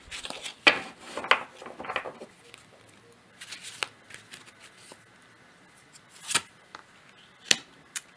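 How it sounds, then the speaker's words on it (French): Cards drawn and shuffled from an oracle deck, heard as soft, intermittent papery flicks and slides, close and fairly quiet, with a few sharper snaps spaced across the stretch. "on va prendre une dernière carte pour clôturer ce tirage, pour la conclusion"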